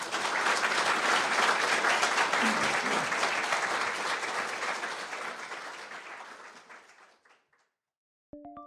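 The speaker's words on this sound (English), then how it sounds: "And a round of applause for those who've shared," Warm audience applause for people who shared personal stories, a steady wash of clapping that gradually fades away over several seconds, followed by a brief quiet pause.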